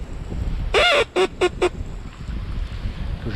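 Short squawking quacks blown on a Duck Commander teal duck call, higher pitched than a mallard call, outdoors on a snowy Minnesota duck hunt: one long call, then three quick clipped notes, loud and close.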